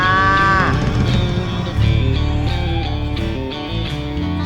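A cow's low, drawn-out moo sounds within a song about a Guernsey cow, sliding downward at the start and then blending into steady music with rhythmic instrumental notes and no singing heard.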